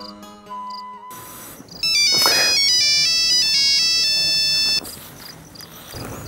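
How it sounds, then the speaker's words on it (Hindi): A phone ringtone plays a bright, repeating electronic melody, loud and close, for a few seconds before cutting off. "किसका फोन है?"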